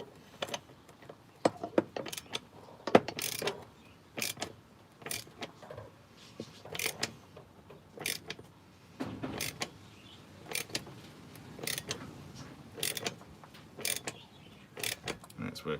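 Crankshaft of a Stihl 026 chainsaw being drawn through its bearing with a puller in a workshop, heard as repeated close mechanical creaks, clicks and ratcheting knocks in irregular bursts with quiet gaps between them.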